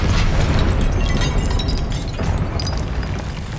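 A Confringo spell explosion in the video game Hogwarts Legacy, a loud continuous fiery blast and crackling roar that stays strong throughout before easing slightly toward the end.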